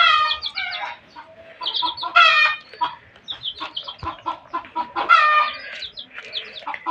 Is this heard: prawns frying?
no